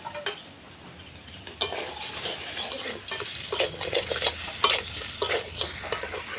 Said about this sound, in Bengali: এই দেখো মাছের মাথাটা দিয়ে দেবো, দিয়ে হালকা কষিয়ে তারপর ঝুলটা দিয়ে দেবো